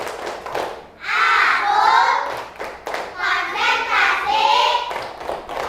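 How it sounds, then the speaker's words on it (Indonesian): Children in a classroom perform the tepuk konsentrasi clapping game, bursts of rhythmic clapping mixed with chanted voices, fairly close and lively across the whole stretch. "Ya, tepuk konsentrasi."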